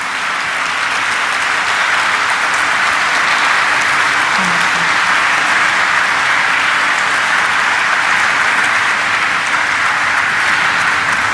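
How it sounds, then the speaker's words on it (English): Loud, sustained applause from a large crowd at the Mankind Pharma Limited stock listing ceremony, a dense, even roar of clapping that never lets up. "let's give a thunderous round of applause for Mr. Ramesh Juneja"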